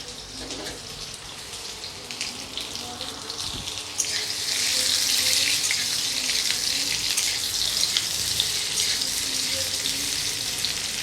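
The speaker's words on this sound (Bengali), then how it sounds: "সিদ্ধ আলুগুলো ভেজে নেব।" Boiled potatoes fry in hot oil for a Kashmiri dum aloo, a steady bright crackling sizzle that grows louder partway through and continues close and unbroken, with no talking.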